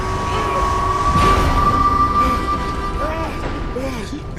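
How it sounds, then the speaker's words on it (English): A train passes in the video game Red Dead Redemption 2, a steady loud rumble and clatter filling the whole stretch with a ringing metallic tone. It stays close and continuous. "I almost got clipped on that train."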